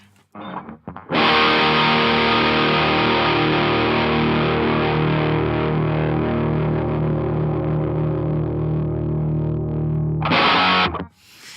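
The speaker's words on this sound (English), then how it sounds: "we've got the overdrive channel on the amplifier going, and this is what it sounds like" A loud, sustained electric guitar chord through an amplifier's overdrive channel with an Electro Harmonix Soul Food pedal, ringing with thick distortion for about ten seconds, then cutting off before a short final strum.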